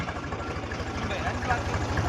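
A tractor engine idles steadily at night while stuck, a low continuous rhythmic throb close by, with faint background noise over it.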